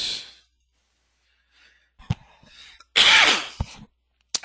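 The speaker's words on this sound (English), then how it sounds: "Sorry, everybody, about my cough." A woman coughs and clears her throat on a webinar call, a couple of sharp bursts followed by a longer raspy cough, close and fairly loud, with a brief breathy sound near the end.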